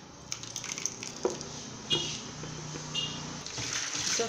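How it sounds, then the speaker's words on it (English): Water drains and trickles softly as soaked dry Editan leaves are sieved through a cloth for soup. The faint flow is broken by a few small splashes and drips in a quiet kitchen. "So I'm going to sieve it."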